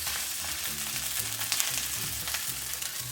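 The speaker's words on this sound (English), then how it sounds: "And cook the other side for another minute too." Scallion pancake frying in an oiled pan, a steady close sizzle and crackle of hot oil running without pause under a low hum, with no talking.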